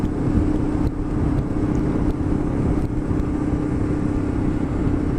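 A Kawasaki KLE 500 adventure motorcycle ridden along country roads, its engine making a steady, unbroken drone with rushing wind noise that stays loud and even throughout, with no talking.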